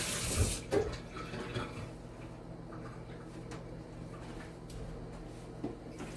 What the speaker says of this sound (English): I gotta wash my hands over here.